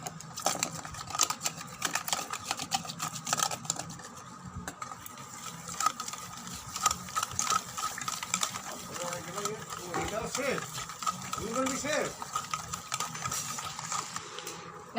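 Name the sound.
whisking sour yogurt for a drink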